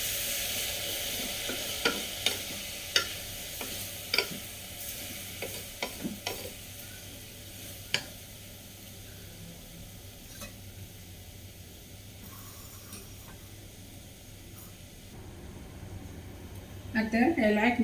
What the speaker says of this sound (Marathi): हे आतां लायक करून मिक्स करूया.